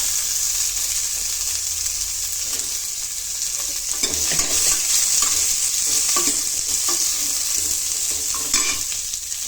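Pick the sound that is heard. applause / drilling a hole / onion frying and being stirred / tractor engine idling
onion frying and being stirred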